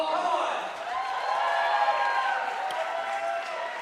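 A crowd cheering and whooping at a para climbing national championship, stirred up by the event's MC; a dense, loud wash of voices holds steady for a few seconds before easing slightly.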